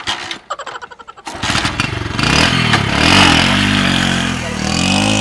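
A motorcycle engine starts with a few choppy cranking pulses, then catches and revs up into a loud, rising buzz that settles into a steady running drone, heard close by.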